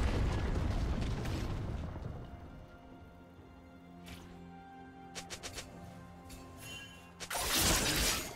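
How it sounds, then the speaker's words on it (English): A League of Legends turret collapsing during a top-lane match, a loud rumbling, shattering crash that fades into a quiet stretch with a few brief pops before another heavy burst of debris at the end. "team's turret has been destroyed"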